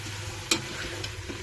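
Beef pieces fry in a pot for yakhni soup, giving a steady low sizzle with a brief scrape of stirring partway through, close and alone with no talk.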